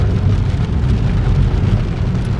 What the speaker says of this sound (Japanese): 雨降ってますし